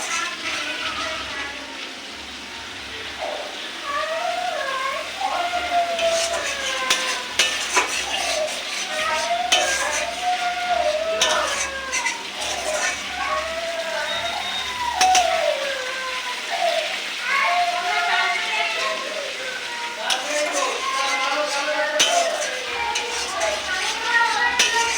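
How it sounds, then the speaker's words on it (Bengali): Spices are stir-fried in oil in a pot until the oil separates, making a steady scraping, stirring sound with a faint sizzle underneath, while someone talks continuously over it. "ভালো করে যতক্ষণ না তেল ছেড়ে দিচ্ছে ততক্ষণ কষতে থাকবো।"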